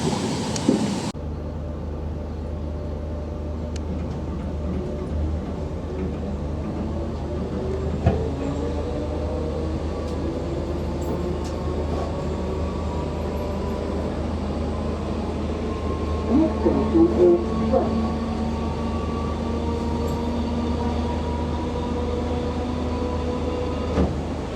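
British Rail Class 313 electric train running toward Brighton, a steady rumbling ride with a low hum, rising motor whine and occasional rail clicks and knocks, heard from on board.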